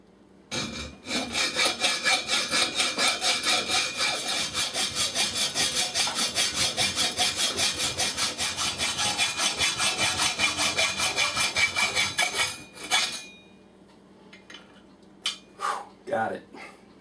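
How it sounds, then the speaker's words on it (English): A hacksaw cuts through a camera mount in steady, rapid back-and-forth strokes for about twelve seconds. A few scrapes and handling knocks follow at close range. "So I cut it with a hacksaw, took forever"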